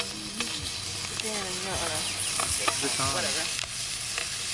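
Bacon and eggs fry on a campsite, a continuous crackling sizzle that runs underneath people talking.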